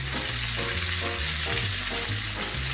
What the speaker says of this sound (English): Alrighty, my pork chops are just about done. I'm browning the fat.